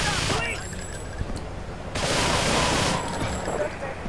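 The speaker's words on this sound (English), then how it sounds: "Holy fuck, these explosions." Explosions and gunfire in Grand Theft Auto III, with loud broadband blasts and crackling bursts filling the scene, two big surges standing out, under a continuous noisy game soundtrack.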